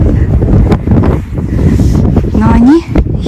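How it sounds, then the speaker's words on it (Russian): Strong wind buffets the microphone outdoors in a small settlement, with gusty rumbling throughout and a voice briefly heard over it. "ветер дует"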